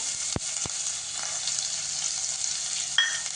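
Chopped onion, curry leaves and two bay leaves sizzle steadily in hot oil for a dal-potato amti, with a continuous close hiss, a couple of sharp utensil taps early and a brief squeak near the end.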